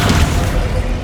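A fire spell cast in Hogwarts Legacy, a short, loud, rumbling burst with a deep boom that lasts about a second.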